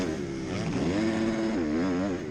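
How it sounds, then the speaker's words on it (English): A 250 motocross bike racing at Morelands Motocross holds a loud, close, continuous buzzing engine note that wavers and bounces repeatedly against the rev limiter. "Alex likes to hit that rev limiter on the 250."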